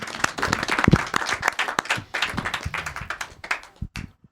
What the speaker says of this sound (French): on applaudit Fong.